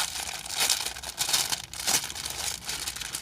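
Crinkly plastic packaging being handled and opened around lightweight mesh fabric towels, several rustling surges of crumpling close by, with no talk.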